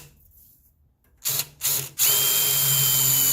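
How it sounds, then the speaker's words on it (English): A power drill boring a small pilot hole into the metal body of a Traeger smoker: two short whirring bursts, then a steady loud high-pitched whine as the bit cuts, close up and with no voices. "drill me a nice little pilot hole."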